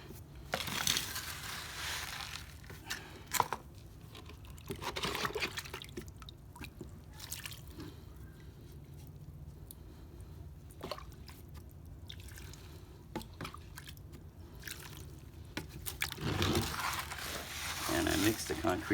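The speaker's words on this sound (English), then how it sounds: "And I mix the concrete to about a yogurt consistency." Concrete mixed by hand with water, wet scraping and crunching strokes with drips and sloshing liquid, irregular and fairly close, while a person talks intermittently.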